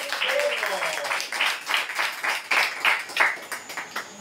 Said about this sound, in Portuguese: Aplauda ele, por favor, igreja.